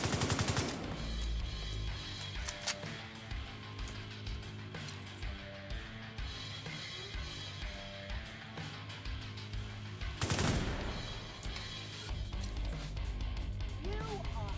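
Gunfire in The Division 2, a sustained stream of rapid shots with bursts of heavier blasts near the start and again later, loud and continuous, with a person speaking over it at times.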